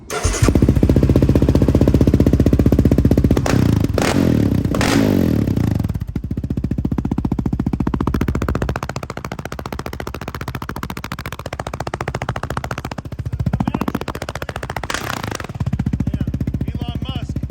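A loud, harsh Yamaha Raptor 700R SE ATV engine with a modified exhaust and intake, rough and popping, revs in bursts, then settles into a choppy idle, with voices talking over it.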